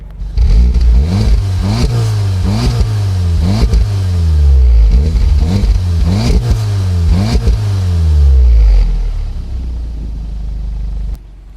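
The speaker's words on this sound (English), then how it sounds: "And now we'll get a quick clip of the exhaust." A 2015 Volkswagen Golf R exhaust revs repeatedly, rising and falling in loud bursts with deep rumbling, then settles to a low idle before cutting off.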